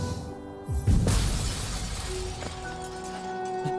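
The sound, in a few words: glass shattering sound effect, Hollow Knight video game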